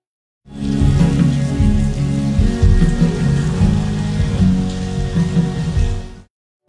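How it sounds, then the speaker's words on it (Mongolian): Steady rain pours down, a dense close patter on a surface that fades in, holds constant for several seconds, then stops. "гинт бороо орсноор"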